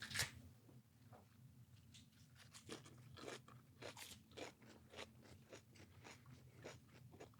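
Repeated crisp crunches of someone biting and chewing a romaine lettuce leaf close to the microphone, a dozen or so bites and chews in an irregular rhythm over a low steady background hum.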